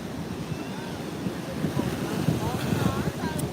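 Surf rolls and washes continuously on a cool day at the beach, with wind buffeting the microphone in a steady, close rumble and faint bird calls above.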